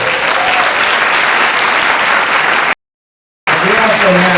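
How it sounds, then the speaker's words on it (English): An audience at a college stage event in Modesto, California claps in a dense, loud, steady burst of applause, cut by a short silent gap before the clapping resumes. "Another round of applause."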